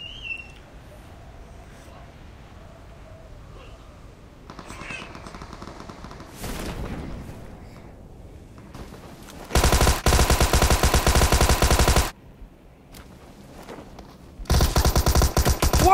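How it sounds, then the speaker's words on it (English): A Thompson Tommy gun firing in PUBG, with two loud sustained automatic bursts after quieter game sounds. "Tommy gun."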